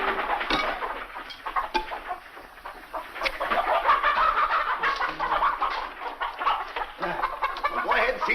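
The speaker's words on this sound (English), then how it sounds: "Well, feed the chickens." Chickens cluck and squawk continuously in a farmyard, a busy flock close by with steady overlapping calls throughout.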